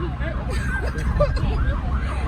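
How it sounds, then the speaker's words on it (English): A wailing ambulance siren rises and falls repeatedly over steady traffic rumble in Ghana, with people talking nearby. "that's why they have the siren on there"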